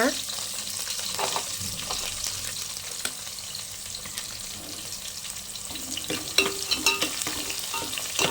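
Finely chopped onions frying in hot oil in a pan for a dried-fish curry, with a steady close sizzle and scattered stirring scrapes and clatters that grow busier toward the end; no voices.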